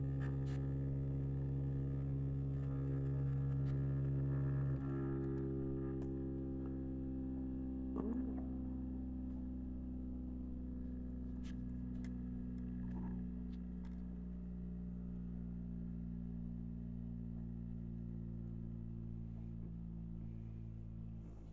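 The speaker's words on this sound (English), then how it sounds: "Smooth running, that's for sure. High speed motor" A dual homopolar motor spins on permanent magnet bearings, producing a steady low hum with layered tonal harmonics that shift slightly in pitch as speed changes, plus a few faint ticks, with no talking.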